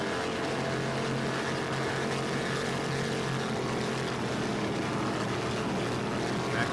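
A Class 4 racing powerboat at full throttle during the 2008 Battle on the Bay race in Patchogue, New York: a loud, steady, unbroken engine roar with a droning low hum that holds throughout.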